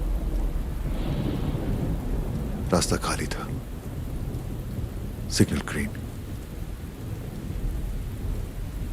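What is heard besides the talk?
heavy rain with thunder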